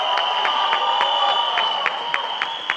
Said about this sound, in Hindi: एक बार जोरदार तालियां for this team.